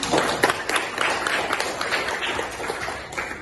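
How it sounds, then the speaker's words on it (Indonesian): Applause from a group in a classroom or teacher-training session rises right after a short presentation, a dense patter of many hands clapping for a few seconds with no talk over it. "Oke, tepuk tangan."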